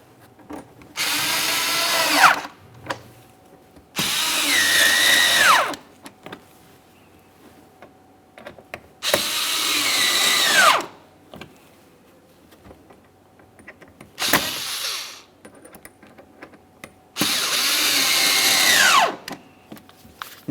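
Power drill snugging screws into a front parking sensor on a 2017-2024 GMC Acadia, running in five separate whirring bursts of about two seconds each, each ending in a falling pitch as the screw seats, with quiet gaps in between.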